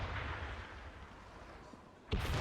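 Ship cannon fire in the video game Assassin's Creed Rogue, a dull rumbling boom fading out, then a sudden loud blast near the end.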